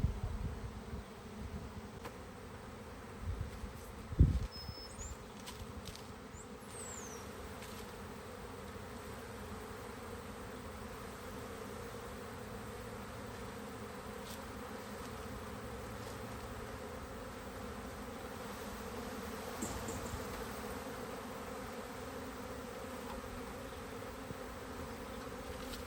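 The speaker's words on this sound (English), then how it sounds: "allow the bees to settle and watch their flying patterns" A honeybee swarm settling at a hive box gives a continuous soft, even buzz of many bees flying around, faint and steady throughout, with one brief thump and no talking.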